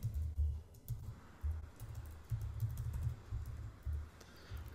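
R code is typed on a computer keyboard, with fast close clicking keystrokes in uneven bursts and short pauses, quiet, with no voice.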